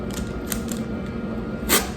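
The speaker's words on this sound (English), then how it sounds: "let's take our cookie dough out and we'll see if we can slice it properly" A knife slices down through chilled shortbread butter cookie dough on a board, giving a few soft, close, crisp taps and cuts over a steady room hum, with a firmer cut near the end.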